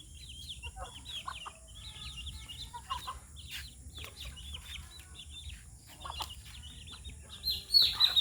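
A mother hen scolds in short, repeated clucks mixed with chick-like chirps at a backyard poultry spot, a steady low rumble underneath and a louder flurry near the end.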